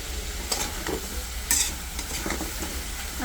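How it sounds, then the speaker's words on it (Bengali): Cut potatoes fry in hot oil with bay leaves in a pan, a steady broadband sizzle broken by a few louder bursts of stirring and scraping, close and continuous with no voices. "আলু লাল লাল করে সুন্দর করে ভাজা হয়ে গেছে"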